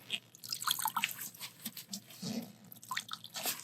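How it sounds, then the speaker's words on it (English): A washed air filter is squeezed by hand, water dripping and splattering in irregular small bursts, close and fairly quiet with no talking. "You're going to squeeze it out. Make sure we get all the water out of it."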